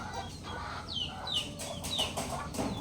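Roosters cluck softly at a distance, with a few scattered calls over steady background hum and no talk.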